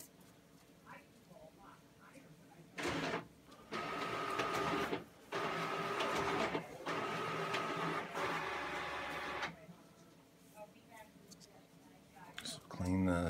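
An office fax machine runs in loud mechanical bursts, several printing and feeding passes of a few seconds each separated by short pauses, close and steady, with quieter stretches at the start and end.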